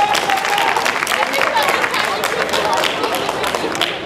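Loud applause and clapping from a hypnotist show crowd at a grad night event, steady and close throughout, mixed with crowd noise and some voices.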